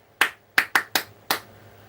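Five sharp hand claps from a single person, close and dry, in an uneven rhythm with short pauses, standing alone with no talk.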